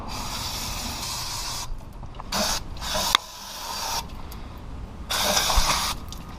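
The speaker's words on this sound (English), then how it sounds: "What I'll do is I'll brake clean the shit out of my oil pan." High-flow brake cleaner aerosol sprayed onto a car oil pan, several loud hissing bursts of varying length separated by short pauses, close and alone.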